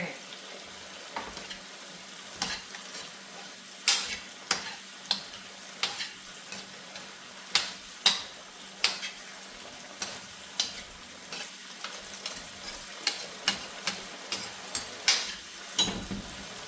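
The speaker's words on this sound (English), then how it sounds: "so now it's starting to sizzle a little bit" Chicken for teriyaki sizzles gently in a pan as its water cooks off, with irregular crackles and pops over a soft, constant frying hiss.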